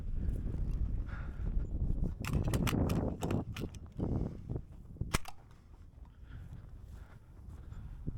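Rifle shots fired at feral camels in the hot Australian outback, a series of sharp, loud cracks at irregular intervals, some in quick clusters, with wind noise and faint ambient rustle between them.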